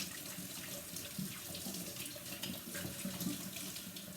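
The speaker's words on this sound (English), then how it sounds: "let me just rinse my hands" Hands are rinsed under a running kitchen tap, a soft continuous splash of water into the sink, fairly quiet and unbroken, with no talking.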